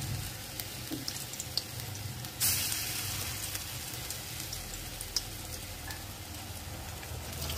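Banana flower chops fry in hot oil in a kadai with a soft, steady sizzle and scattered small pops, quiet overall, with one brief louder hiss as another chop goes in.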